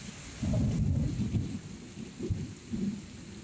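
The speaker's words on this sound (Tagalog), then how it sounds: "lakas ang kulog." Deep rumbling thunder rolls in waves over a constant hiss of heavy rain during a flood, the low booms swelling and fading several times.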